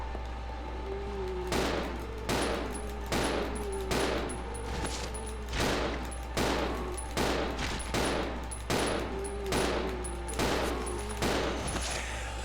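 Repeated gunfire at a zombie in the Resident Evil 0 video game, with bursts of loud, sharp shots fired in quick succession over a steady background hum, pausing briefly between volleys.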